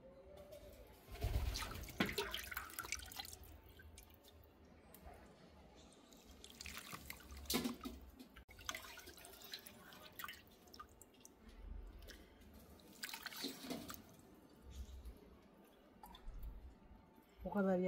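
Whey drips and trickles through a cloth bag while homemade çökelek cheese is strained, soft wet dribbles and splashes coming in bursts, with speech around them.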